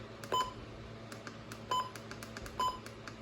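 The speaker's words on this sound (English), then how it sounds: "I turned on the button beeps for this one" A WR120B weather radio gives three short electronic button beeps, spaced about a second apart, close and fairly quiet over a faint background hum.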